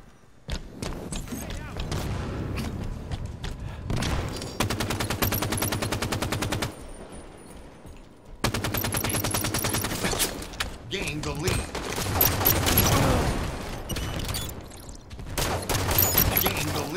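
Halo 5: Guardians Beta firefight, with loud, close bursts of automatic fire coming in long stretches, broken by short pauses and heavier booming hits, plus a quieter gap midway.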